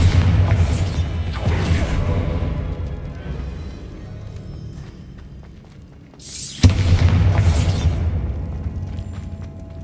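A Bombarda spell in Hogwarts Legacy detonates with a loud boom and a whooshing blast. A second explosion follows a few seconds later, both heavy and close.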